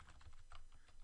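Rapid typing on a computer keyboard, a quick run of soft, close key clicks at a steady pace, quiet with no talking.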